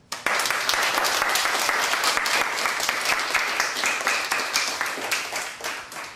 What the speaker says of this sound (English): Let's clap and make him feel welcome.